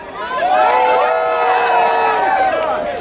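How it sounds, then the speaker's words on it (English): A rally crowd cheers and shouts together in a loud, sustained roar with high whoops and yells layered on top, swelling quickly and holding for about three seconds before easing slightly. "give me one last cheer"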